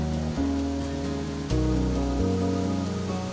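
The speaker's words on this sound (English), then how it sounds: "Heavy rains slash the coastal districts." Heavy monsoon rain pours over India's coastal districts as a dense, constant hiss of falling water, heard beneath loud music throughout.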